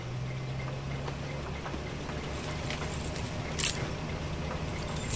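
A set of keys jingles briefly as they are handed over, a short metallic rattle standing out against a steady low background hum.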